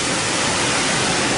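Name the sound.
car wash dryer blowing air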